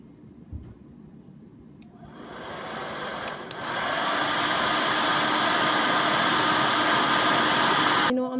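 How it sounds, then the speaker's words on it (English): A hair dryer blows on freshly painted DIY egg hat, starting after a quiet moment with small clicks, then a loud steady whooshing drone close by that continues until it cuts off at the end. "back to blow drying"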